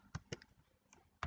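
Soft keystrokes on a computer keyboard during spreadsheet formula entry, a few quick separate taps with short pauses between them, faint and close.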